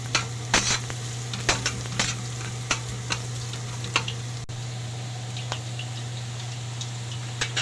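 Food frying for fried rice, stirred in a pan, giving a steady sizzle with scattered clicks of the utensil against the pan and no talking.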